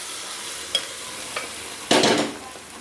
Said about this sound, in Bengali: ভালো করে মিলিয়ে দেবো